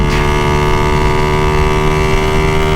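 A Honda Dream motorcycle engine pulls hard in third gear, a steady loud drone with wind rush that holds for the whole stretch, without any talking.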